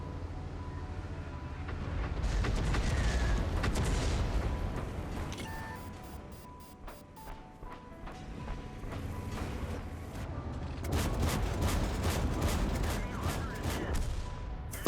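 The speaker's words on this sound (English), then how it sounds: "Yet again, the artillery snatches a chunk of his prey" World of Tanks battle noise with a Flakmaus in play: artillery and rapid gunfire crackle in dense bursts over a low rumble, loudest at the start and end, with quieter stretches between.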